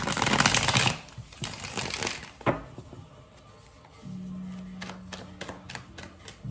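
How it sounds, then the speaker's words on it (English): A burst of tarot cards being shuffled, riffled and tapped, followed by a few soft clicks and a low hum, with no talking. "I'm gonna shuffle one more time."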